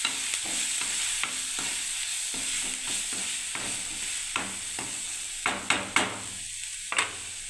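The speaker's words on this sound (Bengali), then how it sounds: "এবার আমি নাড়তে থাকবো বন্ধুরা" Ground coriander and chili powder being stirred in a frying pan for a beetroot and carrot mixed vegetable dish: steady low sizzle under repeated spoon scrapes and taps, with a few sharper knocks near the end.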